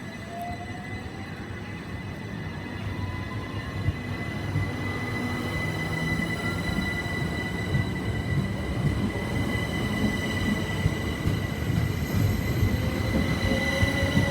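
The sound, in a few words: train brake and wheel squeal as train departs Barnham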